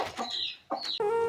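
Chickens and young Brahma chicks on a farm cluck and cheep in a few sharp, close bursts with brief gaps, the last call stretching out longer.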